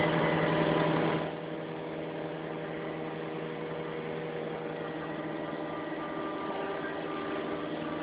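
An excavator engine runs nearby with a steady droning hum, louder for the first second before settling to an even, continuous idle with faint mechanical whine.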